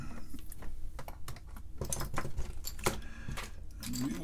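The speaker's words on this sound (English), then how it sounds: "Begin to put back on keycaps." Keycaps are pressed back onto the keyboard of an E&L VTE-1 serial and current-loop video terminal after cleaning, giving a steady run of close, light plastic clicks and taps with no talk.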